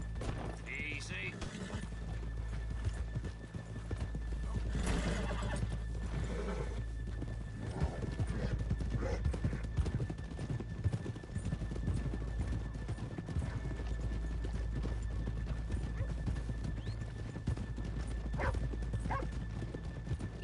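Horses in the video game Red Dead Redemption 2 neigh and stamp, with hooves clip-clopping against a low steady background rumble while voices talk.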